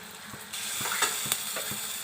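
Onion frying in a pan sizzles steadily as green chillies go in, the hiss rising with a few soft stirring clicks and scrapes at close range.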